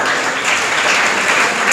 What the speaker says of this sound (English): Keep clapping because